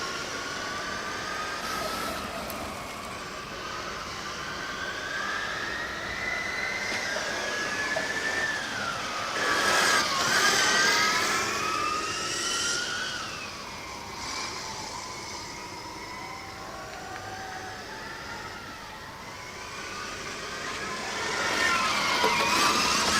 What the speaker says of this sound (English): Hearing quite a bit of a rattle from the Darmstadt car, once again bottoming out quite heavily in the corners in the horseshoe